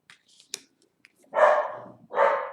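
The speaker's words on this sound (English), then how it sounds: "Please excuse my dogs barking in the background." Dogs barking somewhere in the room, a few quiet sharp clicks and then two loud, drawn-out barks about a second apart, standing alone without talk.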